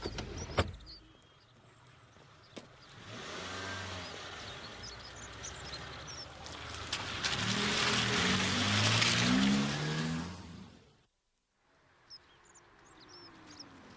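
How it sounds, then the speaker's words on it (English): A car approaches and passes close by, its engine rising then dropping as it slows, before cutting off into near silence, beside a pedestrian walking alone. "I heard a car slowing, so I stopped."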